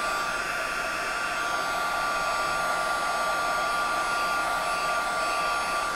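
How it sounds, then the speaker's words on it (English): A heat tool blows continuously over embossed cardstock for a holly border card, producing a loud, steady, close whirring rush of air that never changes, with no speech. "By heating up my heat tool for just a couple seconds beforehand, it makes it a little bit hotter"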